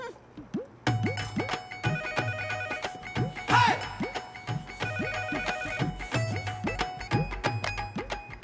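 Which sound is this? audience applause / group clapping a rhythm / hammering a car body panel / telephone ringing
telephone ringing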